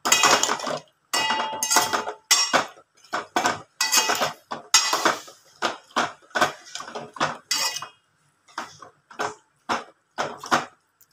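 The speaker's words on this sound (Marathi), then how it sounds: "आणि मस्त त्याला हलवून घ्यायचं" Mutton is stirred in a metal pot, the spoon scraping and clinking against the metal in quick, irregular bursts, close and clear, with short pauses between strokes and no talking.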